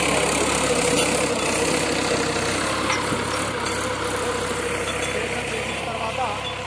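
A Mahindra tractor engine idles in a farm field, giving a steady, continuous low rumble with a rough mechanical texture. It stays at an even level throughout.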